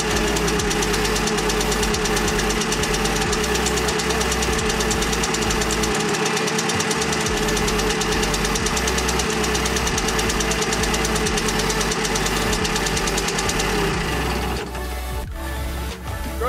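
Engine of a 1965 Simson Schwalbe moped running steadily with a dense, rapid two-stroke knocking rhythm, loud and close throughout, the tone shifting near the end.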